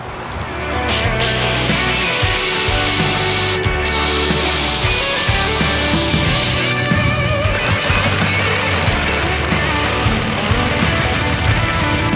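A power saw cuts a vent hole through a house roof for a range-hood flange, giving a loud, continuous buzzing and rattling drone with a few brief breaks in the blade's grind.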